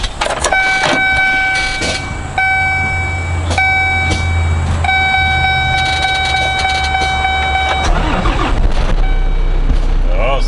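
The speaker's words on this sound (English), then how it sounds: "Oh, sounds like a big engine." A 2008 GMC truck with a big engine idles steadily at a fall farm auction, a low continuous rumble under nearby voices, with sustained tonal hums and brief clatters over it.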